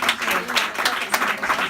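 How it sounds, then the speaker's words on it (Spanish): Audience applause fills an indoor book presentation, a steady dense patter of many hands clapping close and loud throughout, with no talk over it. "yo les pido de nuevo un inmenso aplauso para Beatriz Ledesma."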